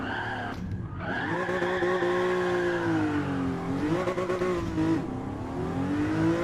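Race car in Gran Turismo 7 accelerating through a corner under steady steering, engine note rising and dipping with gear changes alongside continuous tire squeal and skidding, loud and close throughout.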